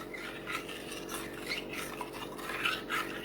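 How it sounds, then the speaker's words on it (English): A homemade Frosty mixture is stirred, producing a continuous soft rubbing and scraping of a utensil against the container, quiet and close with gentle irregular strokes. "I'm going to stir that up."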